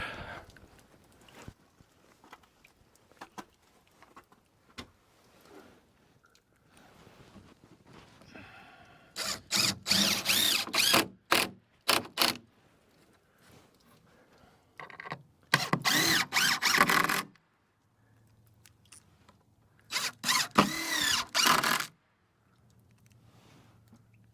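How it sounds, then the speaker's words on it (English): A power drill drives screws into board and batten siding on a sawmill shed, in three loud, separate bursts of whirring spin with quiet pauses and faint handling noise between them. "So got one more to screw in there."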